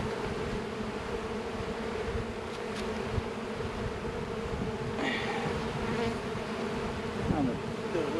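Honey bees buzzing during a late March beehive inspection, a dense continuous drone close by with a steady level throughout and no talk.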